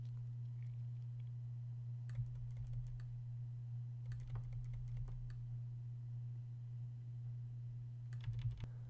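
Scattered clicks of computer keys pressed in small bursts while working in Photoshop, fairly faint, over a steady low electrical hum.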